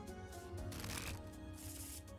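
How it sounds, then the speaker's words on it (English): A deck of playing cards being shuffled close up on a table, a quick riffling burst followed by a second rush of cards. "I cut the deck and shuffle them."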